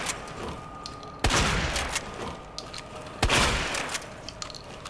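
Gunfire in the video game Resident Evil 2 Remake: two loud, sharp shots about two seconds apart, each trailing into a long, noisy echo over a steady game ambience.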